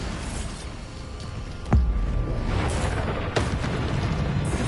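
Bombarda spell blasts in a Hogwarts Legacy duel: a sharp booming explosion with a low thump lands partway through, and a second, fainter burst follows, over steady game ambience.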